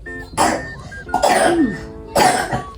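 Three harsh coughs from a child, evenly spaced, close and fairly loud, with quiet pauses between them.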